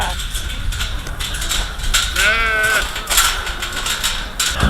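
Sheep bleat in a farm pen, a ewe with her lambs, one clear wavering bleat standing out near the middle against background chatter and rustling, with other fainter calls around it.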